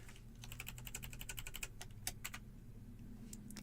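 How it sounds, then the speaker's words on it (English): Fingers type on a computer keyboard in rapid, close clicks, a burst of keystrokes with brief pauses over a faint steady hum. "Let's type it in there again."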